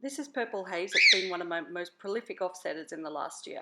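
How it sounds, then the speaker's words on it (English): Pet birds squawk briefly in the background, one sharp, shrill cry rising about a second in, while a person talks steadily over them in a garden setting. "Excuse my birds."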